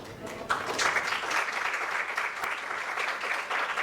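An audience claps for a trauma surgeon after his talk at a Chilean medical event, a continuous, even wash of many hands clapping at moderate volume, heard from a little distance with no speech over it.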